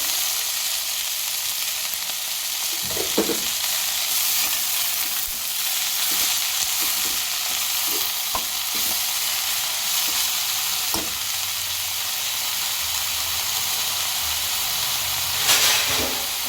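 Garlic and fenugreek leaves fry in a pan with a steady sizzle and hiss, broken by occasional stirring scrapes and clinks close by, with no talking.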